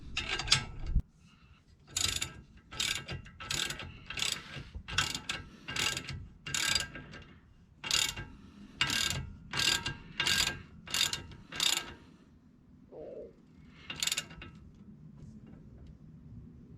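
A ratchet wrench tightens tie rod and center link fasteners on a Jeep XJ, giving bursts of rapid clicking strokes separated by short pauses, close and loud, with no talking.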